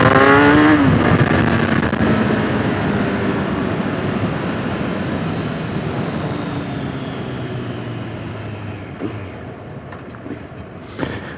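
A Kawasaki Z1000 motorcycle accelerates hard on a speed run, its engine roaring loudly and steadily close by with wind rush. The pitch shifts near the start, and the roar slowly eases toward the end.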